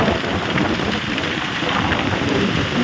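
Steady rain falls continuously at a home in Botad, a dense even hiss of drops on surfaces with a low rumble underneath, loud and unbroken throughout.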